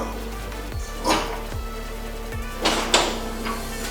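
A Wiesheu bakery oven door is worked, giving a few soft mechanical thuds and sliding hisses over a steady hum of machinery.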